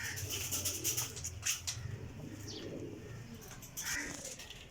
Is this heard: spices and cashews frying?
no